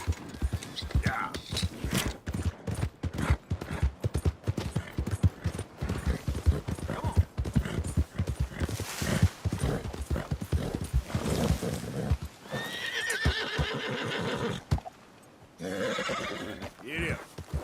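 Rapid clip-clop of a galloping horse's hooves runs steadily throughout in the Red Dead Redemption 2 video game, with whinnies and the rider's voice breaking in now and then.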